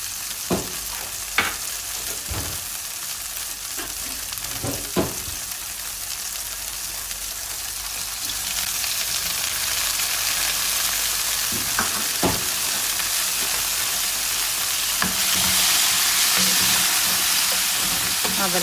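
Eggs fry in a pan with a constant hissing sizzle that grows slightly louder, while a few sharp utensil knocks land at irregular intervals close by.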